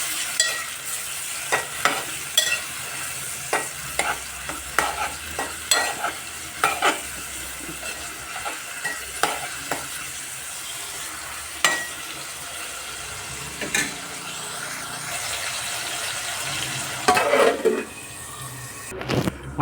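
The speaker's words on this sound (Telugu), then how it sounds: "కొంచెం ఆయిల్ హీట్ అయ్యాక నేను అందులో ఆనియన్స్, పచ్చిమిర్చి వేసుకుని వేయించుకుంటాను." Onions and green chillies fry in hot oil for a Godavari-style fish curry, a steady close sizzle broken by regular clicking stirs and scrapes in the pan.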